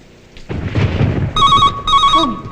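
A telephone rings with a call in a Kannada film scene, two bright electronic ring bursts sounding close and clear after a moment of rustling noise.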